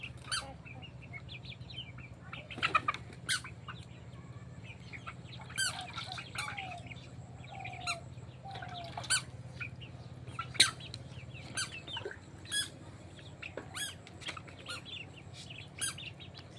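Backyard chickens cluck and squawk at feeding time in a series of short, sharp calls scattered over a low steady background hum, fairly close but quiet overall.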